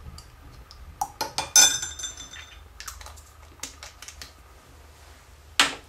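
A sea salt spray mixture with aloe vera extract stirred in a glass, with a few sharp clinks and taps of a spoon against glass separated by quiet gaps, no voices.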